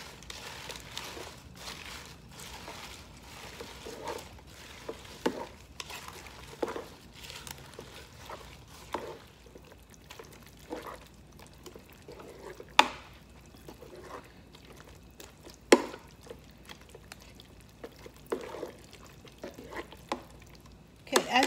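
Spinach being stirred into shrimp fettuccine inside a Ninja Speedi rapid cooker, with soft scraping and rustling strokes that repeat through the clip and a few sharper knocks of the utensil against the pot.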